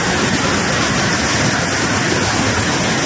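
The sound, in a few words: mountain spring waterfall rushing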